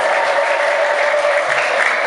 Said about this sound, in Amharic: እስኪ አንድ ጊዜ እልል ብላችሁ ክርስቶስን